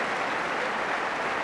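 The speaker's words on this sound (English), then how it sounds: "Deserved applause for Mark Barham." A football crowd at a 1982-83 Norwich City versus Manchester City match applauds a player, a brief steady wash of distant clapping.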